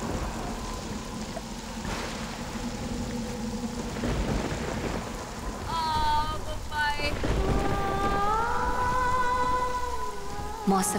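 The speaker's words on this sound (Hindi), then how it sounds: "अभी अभी आसमान साफ था और अब ये बादल और बारिश।" Steady rain falls in a continuous close hiss for the whole stretch, with a low rumble underneath and sustained musical tones rising over it in the second half.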